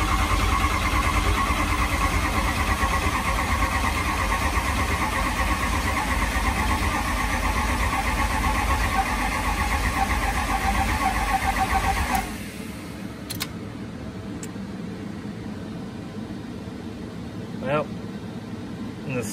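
A 6.0 Powerstroke diesel cranks on its starter in a steady, loud, droning churn for about twelve seconds, then cuts off, leaving quiet with a few faint knocks.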